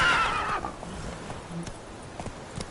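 In The Witcher 3, a horse gives a sharp, loud neigh at the start, followed by softer, scattered hoof thuds as it moves off into a quieter background.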